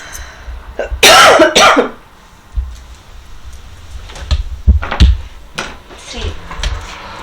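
A woman coughs in a close, sharp burst, followed by smaller throat-clearing coughs and soft indoor noises over several seconds.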